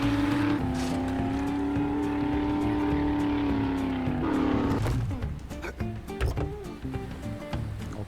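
A vehicle in the survival video game 7 Days to Die, its engine holding a steady droning whine that fades out partway through, followed by scattered game noises and a voice talking.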